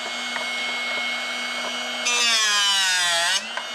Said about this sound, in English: you'll push it in, you'll hear it grinding, you'll rotate it 180, and you'll push that thing back in and let it grind